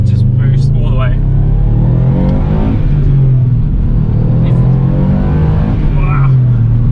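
A Subaru WRX STi Type RA Version 2 turbo engine pulls hard with a loud, rising drone heard from inside the car, repeated climbs in pitch over a heavy rumble, while people talk over it.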